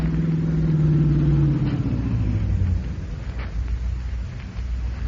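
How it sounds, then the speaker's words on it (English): A bandit car approaching through a rumbling low engine drone that swells and then fades as it nears, a loud continuous vehicle sound with no talk. "Here comes the bandit car."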